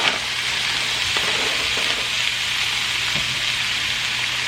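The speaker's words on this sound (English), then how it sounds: "I'm going to add my vegetables, my frozen vegetables. This is the stir fry mix that we got." A frozen stir-fry vegetable mix sizzles in a hot pan, giving a continuous, even, close frying hiss with faint crackles throughout and no talking.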